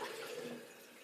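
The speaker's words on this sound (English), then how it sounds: "Now I'm just going to put a drop of cold water on my face." Cold water splashed onto the face at a bathroom sink during a shave, a brief watery rush and splash that tapers off quickly, close by and alone.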